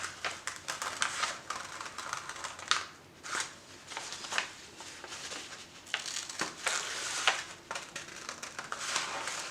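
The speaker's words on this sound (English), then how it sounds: "Then we're going to take our scissors and cut on the line" Scissors cutting along a drawn line in paper for a pop-up book craft, a close, steady run of crisp snips and crinkly paper rustles repeating throughout with no talking.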